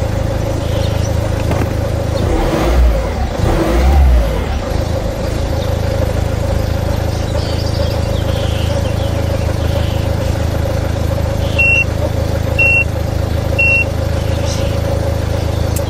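A Citroen C3 with a newly replaced starter kit, still showing dashboard warning lights, runs at a steady low idle nearby, with three short electronic beeps near the end.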